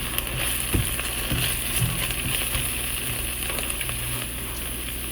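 Garlic paste frying in a pan, a steady close sizzle that stays even throughout with a few soft clicks and stirring scrapes underneath.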